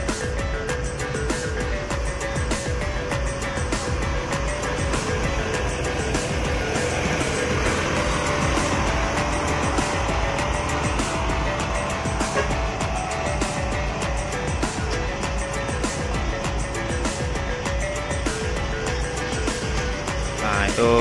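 A Volvo bus pulls out of the parking lot at Kampung Rambutan bus terminal, its engine rumbling steadily and loudly for about twenty seconds amid general terminal traffic.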